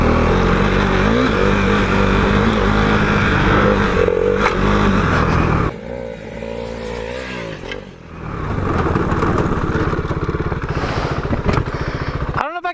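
A KTM 390 motorcycle engine pulls hard while riding, close and loud, with a rough rising drone and wind rush. It briefly eases off midway, then climbs back to a steady roar.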